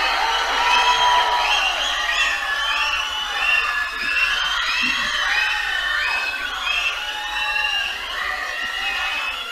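A large crowd cheers, whoops and shouts in a continuous loud roar as a film star is invited up to speak at the event, the excited voices swelling and overlapping.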